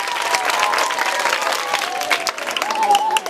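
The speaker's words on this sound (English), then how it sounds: "let's give a big clap to our teams here." An audience at a boarding primary school claps for the quiz teams, a brisk burst of crowd applause with a voice audible over it throughout.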